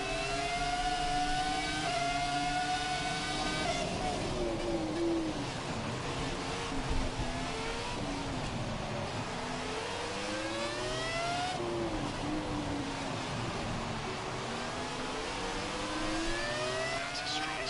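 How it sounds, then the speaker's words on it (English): An F1 2017 race car engine screams through rising and falling revs, gear changes sweeping up and down repeatedly, loud and continuous with other cars audible around it. "Man, listen to the sound of this car."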